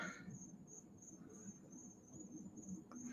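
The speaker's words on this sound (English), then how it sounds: "Grasshopper?" Steady insect chirping, most likely a grasshopper, runs as a continuous high trill through the whole stretch, with a low background rumble underneath and no voices.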